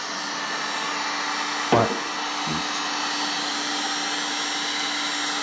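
A heat gun or hair-dryer-style heater blows hot air to warm soft plastic for fishing lures, a steady, close whooshing roar with a faint hum and two brief knocks partway through.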